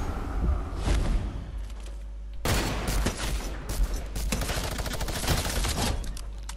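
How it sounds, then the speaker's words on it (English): Infantry rifle gunfire in a Fortnite battle royale match at the Loot Lake event, rapid repeated shots crackling in dense bursts at moderate distance, with a sharp louder volley midway and continuous firing afterward, no talking. "this new infantry rifle is really good"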